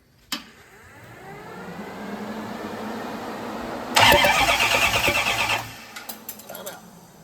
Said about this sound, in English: Okay, Joe, hit the starter.